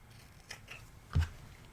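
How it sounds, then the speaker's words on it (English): Scissors make a couple of short, close snips while cutting a paper strip at an angle for a baby birthday craft, with a single clear louder cut near the middle. "I'm going to cut at an angle."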